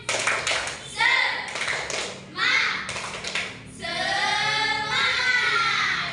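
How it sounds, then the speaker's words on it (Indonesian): A class of students performs the rhythmic 'tepuk semangat' clapping chant during a micro-teaching lesson, with bursts of clapping and children's chanting voices mixing in several lively phrases. "1, 2, 3, tepuk semangat."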